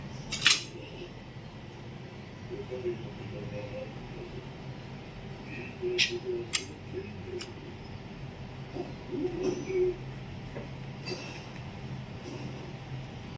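A knife cuts candied orange peel into long strips on a board, giving sparse taps and light scrapes with a few sharper clicks, close by over a steady low background hum.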